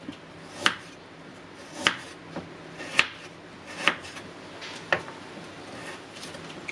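Sharp knife chops through Indian gooseberries on a board, about six evenly spaced cuts, close and crisp, without any voices.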